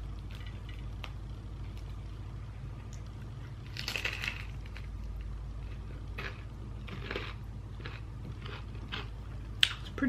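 Someone bites into a homemade baked dish topped with basil, honey and chili flakes, producing faint, close crunching and chewing in a few short bursts over a low steady hum.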